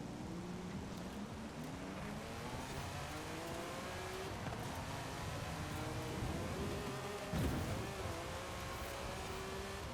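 Sustained engine roar of a car in Forza Horizon 5 as it revs through a jump near a cave, steady and loud throughout with a brief surge and scrape late on, no voices.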